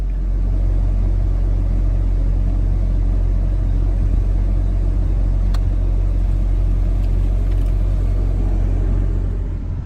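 Jeep Wrangler on new tires rolling along a road in Pennsylvania, a loud, steady engine and tire rumble with heavy low-end roar that holds constant, no talking.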